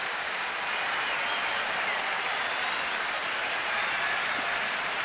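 A baseball stadium crowd at an Atlanta at Washington game cheers and claps in a steady, distant wash of noise that holds evenly throughout with no talk over it.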